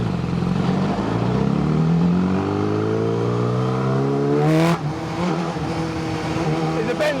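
A kit car powered by a Yamaha R1 motorbike engine accelerates hard from a stop, its rising whine climbing steadily through the gears with a sharp shift break, loud and close from inside the cabin.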